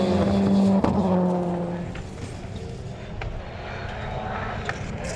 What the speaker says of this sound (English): Down through the gears as he heads to the Hatchet's hairpin.